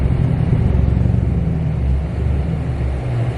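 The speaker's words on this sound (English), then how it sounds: "But the motor's not sounding too good." Widebody Dodge Challenger with an engine running rough while driving, a loud, steady low rumble with a faintly uneven pulse that fills the whole stretch, heard from inside.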